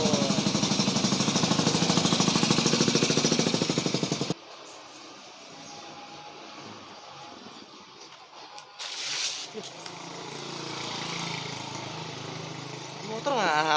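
A motorcycle engine runs loud and rattly up close for about four seconds, then cuts out, leaving quieter background noise and scattered voices.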